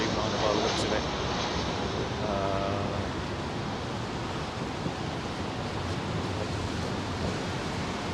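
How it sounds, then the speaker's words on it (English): A Boeing 787 Dreamliner jet at Heathrow Airport makes a steady, distant, broad roar on a fireworks night, with faint voices under the continuous rumble. "That's Dreamliner by the looks of it."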